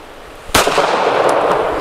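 A single sharp shot from a Smith & Wesson Equalizer pistol cracks loudly and close, followed by a short decaying echo over a quiet outdoor background.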